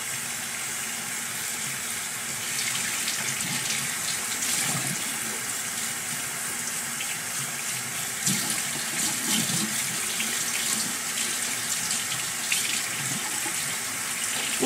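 A tap runs steadily into a sink while a makeup brush is rinsed clean of olive oil and soap, giving a continuous close gush with faint splashing shifts.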